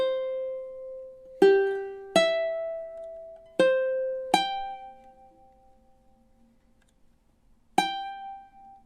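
Single plucked ukulele notes pick out a melody from The Legend of Zelda in a slow, spaced line of about six notes. Each note rings and decays, with one long fading gap before the last, played solo.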